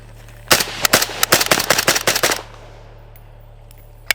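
An AK-47 chambered in 5.56 with a suppressor fires a rapid, loud string of about a dozen sharp shots over two seconds, then one more isolated shot after a short pause.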